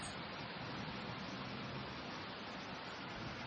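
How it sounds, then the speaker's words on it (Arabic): Summer rain falls outdoors among trees as a steady, even hiss of broadband patter that holds at a low, constant level throughout, with no voices. "أمطار صيفية تجنن"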